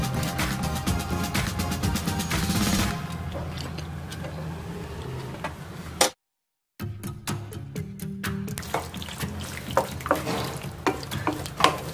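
Cheese pasta gets stirred in a pan with a utensil: close, busy scraping and sticky squelching, a brief dropout to silence partway through, then more irregular stirring scrapes and knocks.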